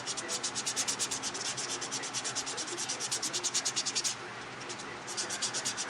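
Buffing an acrylic nail, a steady rapid scratchy rubbing in quick back-and-forth strokes, close and fairly quiet, continuing with a brief pause near the end.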